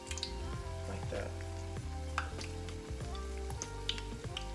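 Battered Oreos frying in oil, heard as a continuous close crackling sizzle with light popping, steady and unbroken across the whole stretch with no voices.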